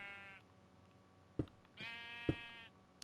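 Sheep bleating in the Minecraft video game, two drawn-out wavering bleats one after another, with sharp clicks of game actions in between and no talk.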